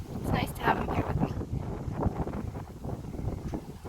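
Strong gusty wind buffets the microphone outdoors at a cottage, a steady roaring rumble throughout with a parrot nearby, while a person talks over it.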